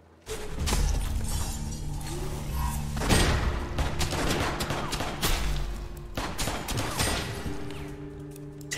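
Pistol shots in the game West of Dead, sharp cracks fired in a steady run with brief pauses, loud and close over a low humming musical background.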